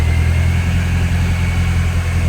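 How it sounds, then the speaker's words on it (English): A 2002 Mini Cooper engine idles steadily with a low, even rumble and faint higher whine, no voices. "See, the engine runs good."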